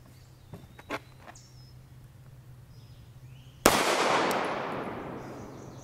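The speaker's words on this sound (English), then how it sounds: "we'll try the Fort Scott Munitions 80 grain solid copper spun out of the Glock" A single sharp report from a Glock pistol firing a Fort Scott Munitions 80-grain solid copper round at a ballistic helmet outdoors, followed by a long ringing echo that fades slowly, after a few faint handling clicks.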